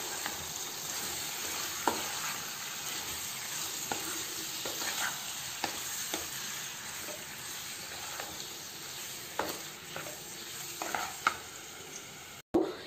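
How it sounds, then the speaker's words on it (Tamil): Mutton liver being stirred as it fries in a pan, a continuous soft sizzle and hiss with occasional scrapes and clicks of the spoon, close and moderate in level. "இந்த டைம் நான் வாஷ் பண்ணி வச்சிருக்க மட்டனோட ஈரலை சேர்த்துறேன் சேர்த்துட்டு நல்லா கலந்து விட்டறலாம்"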